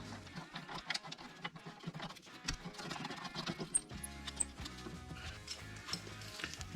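A hand ratchet clicks in quick metallic bursts while a 17mm caliper carrier bolt is run in on a Honda CR-V rear brake, with close, uneven ticking and some handling clatter between the runs.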